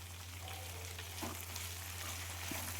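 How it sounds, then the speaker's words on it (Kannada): Coriander, mint leaves and chana frying in a pan give a steady, soft sizzle with occasional stirring scrapes, close and even, under a low constant hum. "ಸೊ ಈಗ ಕೊತ್ತಂಬರಿ ಸೊಪ್ಪು, ಪುದೀನ ಸೊಪ್ಪು, ಸ್ವಲ್ಪ ಕಡಲೆ ಇಷ್ಟನ್ನು ಹಾಕ್ಕೊಂಡು ಚೆನ್ನಾಗಿ ಹುರ್ಕೊಂಬಿಡೋಣ"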